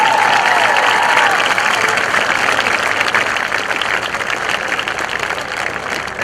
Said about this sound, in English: Let's have a big round of applause for our football seniors.